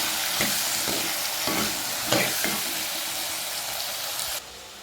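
Onions sauté in a hot pan before eggplant goes in: a steady, close, loud sizzle with a few soft stirring scrapes, and no voices.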